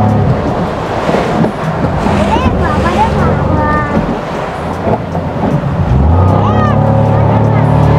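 A speedboat runs across Patratu lake in Jharkhand; its engine roars steadily alongside rushing wind and splashing water, with some voices faintly mixed in.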